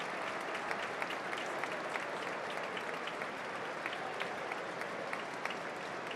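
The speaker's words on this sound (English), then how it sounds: "Sympathetic applause for the centre-back as he will be replaced now by Mepham." Sympathetic applause from a football crowd at a Sunderland v Hull City Championship match as a centre-back is substituted: steady, dense clapping from a large stadium crowd, continuous and evenly loud throughout.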